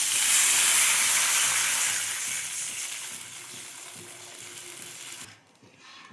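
Rice water poured into a pan of sautéed onions raises a loud hissing sizzle that gradually subsides, then cuts off abruptly into near silence.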